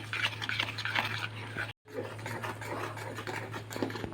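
Milk stirred into avil payasam in a pot with a spoon, a continuous close scraping and swishing that pauses briefly for a moment, then resumes with no talking.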